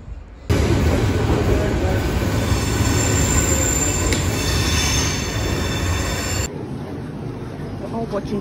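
A loud train rolling past on the rails at a UK station platform, a continuous heavy rumble with high metallic wheel squeal, cutting off abruptly into quieter station ambience.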